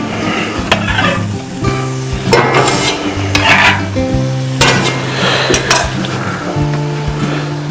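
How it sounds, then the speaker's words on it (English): Onion sweats gently in a little butter in a pan, with intermittent scraping and stirring bursts over a loud, steady musical backdrop that dominates throughout. "Just gonna sweat the onion a little bit."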